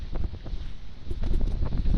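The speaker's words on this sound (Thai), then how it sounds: "ลมโชยบรรยากาศโอโซน บริสุทธิ์มากครับ" Sea breeze gusting across Samila beach in Songkhla, Thailand, a steady rushing wind buffeting the microphone with brief swells, heard alone without voices.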